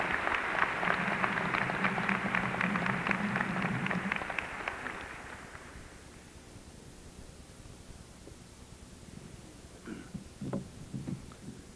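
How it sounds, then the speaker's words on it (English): Applause from a commencement crowd at the University of North Carolina at Charlotte, a dense steady wash of clapping for about four seconds that fades out, followed by faint scattered sounds in a large hall. "a round of applause for these devoted servants of the university"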